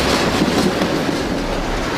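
A train rumbles steadily past on the rails, loud and close, a broad continuous roar with a faint rhythmic clatter.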